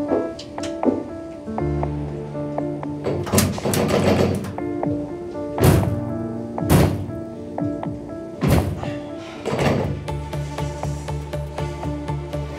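Repeated heavy thuds and rattling bangs as someone pushes and strikes a frozen freezer-room door that will not open, irregular knocks and scrapes up close with no speech.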